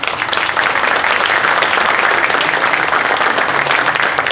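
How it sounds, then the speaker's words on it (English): Audience at a congressional district political convention applauding loudly and continuously, a thick sustained wash of many hands clapping from start to finish. "I'd like to give her a recognition and applause for the great work she's doing."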